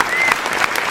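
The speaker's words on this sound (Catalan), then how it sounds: "Aplaudiments!" Studio audience applause greeting a guest on a Catalan comedy talk show, a dense, steady wash of clapping close to the mics with no break across the short burst.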